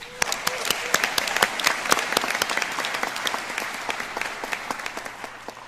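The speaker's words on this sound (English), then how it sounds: "So give yourselves a round of applause." An audience at a nursing school fall pinning and graduation ceremony claps in sustained, hearty applause. Dense overlapping claps swell early, then gradually thin toward the end, with a faint hint of voices underneath.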